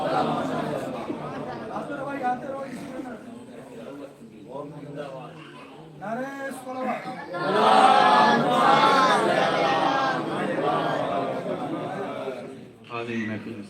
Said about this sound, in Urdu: نعرے صلوات پڑھیں